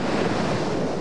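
Rough, choppy open sea with heavy surf and gusting wind buffeting the microphone, recorded aboard the cruiser General Belgrano; a loud, steady broadband roar with no speech.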